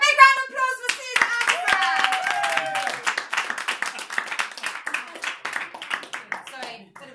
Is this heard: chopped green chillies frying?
no